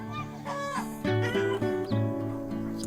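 Chickens and ducks crowd a farm paddock awaiting feed, a close chorus of clucks, quacks and squawks rising in overlapping repeated calls.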